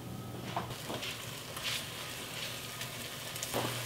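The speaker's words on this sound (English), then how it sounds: "So now I'll slice these onions. Let me take these over to the pot and drop them in." Sliced onions dropped into a hot Crofton cast iron braiser for a one-pot dish, giving a steady close sizzle and crackle of frying with faint stirring bumps throughout, no voices.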